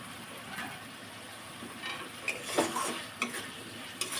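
Chicken with ground spice paste stir-fried in a pan as masala kosha for chicken puli pitha, giving a low continuous sizzle with scattered spatula scrapes and clinks that grow busier toward the end, with no speech.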